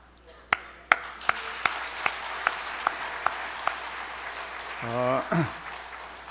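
A series of about ten sharp, evenly spaced claps rings out at a New Year's Eve church service, followed by a brief voice.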